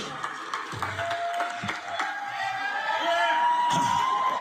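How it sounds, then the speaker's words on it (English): A crowd at an event claps and cheers, with whoops and yells over sustained applause that builds louder toward the end, and voices shouting through it. "Listen to them clapping and cheering for what they're doing to this boy."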